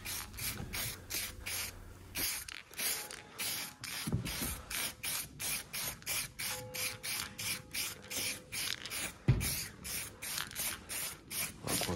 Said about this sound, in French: peindre de petits sujets à la bombe en limitant cet effet de nuage comme on le voit ici où ça en met partout